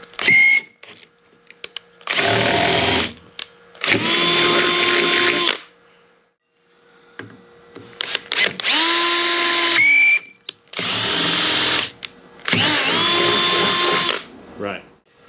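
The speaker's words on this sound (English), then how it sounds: "we're going to drill the roof rack" A slightly worn power drill bores through thick plastic on a 4x4's roof for a rack, in four loud, close bursts of whining, rising drill noise separated by short pauses with light handling sounds.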